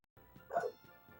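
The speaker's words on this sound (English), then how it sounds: "I hear borking." A dog barks once in the Tales of Xillia video game, a single short, fairly faint bark over low background game sound.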